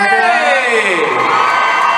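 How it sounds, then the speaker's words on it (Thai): At a press conference for a concert, an audience cheers loudly, with shrieks and whoops from many voices layered over applause, steady and close throughout. "ขอเสียงปรบมือให้กับทั้งสอง ท่านด้วย"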